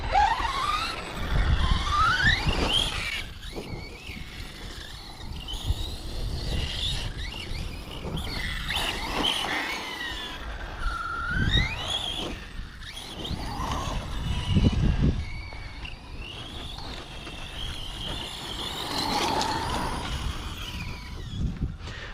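Yikong DF7 RC car running with its transmission and electric motor whining, the pitch rising and falling as it revs and coasts, steady and fairly close with shifting loudness throughout.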